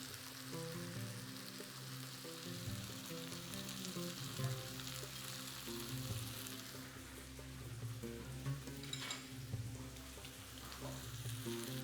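Sliced green olives and chopped herbs sizzle with cooked-through peppers in a pan, a steady close frying hiss with light stirring scrapes and small crackles running throughout, no voices.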